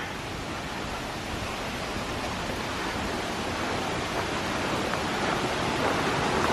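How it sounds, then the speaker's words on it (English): Mountain stream flowing beside an Appalachian Trail footpath, a loud, steady, close rushing of water that fills the whole clip with no voices. "Oh, I hear a stream right here."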